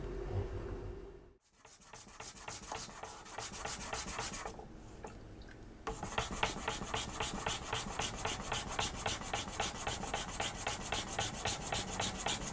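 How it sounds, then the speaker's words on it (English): Bent surigai shell for Ryukyu raden lacquerware is planed: quiet, close scraping, first irregular, then a steady rhythm of repeated strokes. "cutout surigai that is greatly bent can gradually be straightened by planing it"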